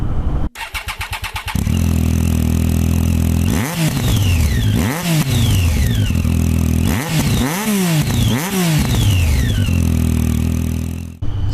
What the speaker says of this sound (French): On est sur une mono-cartouche, un Scorpion, qui fait un bruit très très joli.